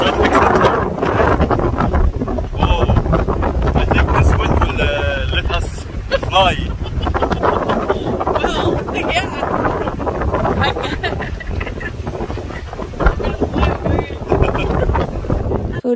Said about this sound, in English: We got a strong wind here near the beach of the Scientific Center.